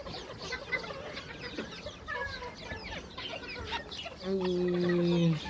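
Chickens cluck and murmur nearby in scattered bursts, ending with a longer, louder drawn-out call from one bird.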